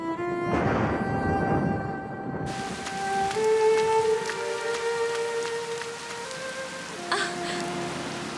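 Steady rain patters throughout, mixed with music-like sustained tones and a brief whimpering sound near the start.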